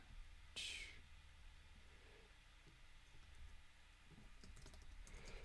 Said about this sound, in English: I'm typing out the answer in the live stream